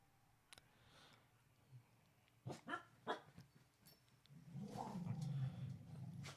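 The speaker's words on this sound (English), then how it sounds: "Uh-oh, dogs are angry." Angry dogs bark in a few sharp, separated bursts, followed by a louder, sustained growling and snarling stretch toward the end, all moderately close with no talk over them.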